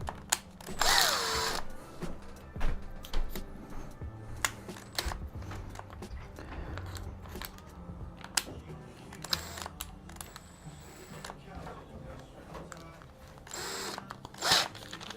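A power drill fitted with a screwdriver bit, used while building a PC inside a cooler, whirring in several short bursts with clicks and handling noises between them, close by and fairly quiet.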